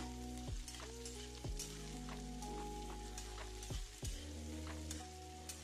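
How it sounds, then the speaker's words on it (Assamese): Potatoes, onions and green chilli frying in mustard oil in a pan give a steady, close sizzle with periodic clatters of stirring and scraping. "আলু আৰু পিঁয়াজখিনি মই লৰাই লৰাই 1/2 মিনিটমান ভাজি থাকিলোঁ।"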